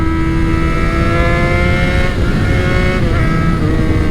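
A 600 motorcycle accelerates along a trail, its engine holding a loud, steady buzzing drone close to the rider with a slight rising pitch, heard alone.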